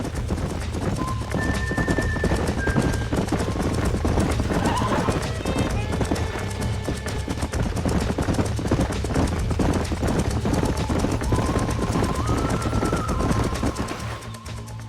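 Horses' hooves clip-clopping steadily in the Western video game Red Dead Redemption, loud and continuous under a music bed, with a whinny and speech mixed in.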